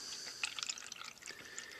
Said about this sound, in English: let's fill the cups with water up to the black line so that both cups have the same level